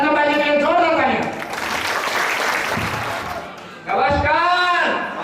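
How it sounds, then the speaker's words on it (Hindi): Seminar audience applauding a guest at a business success preview event in Kamrej, Surat, a loud burst of clapping between stretches of speech. "चंद्रपाल जी के लिए जोरदार तालियां।"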